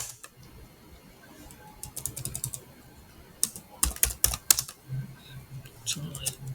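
Code being typed on a computer keyboard for a Java programming lesson: bursts of close, crisp key clicks in quick clusters, with pauses between and a voice talking over parts of it.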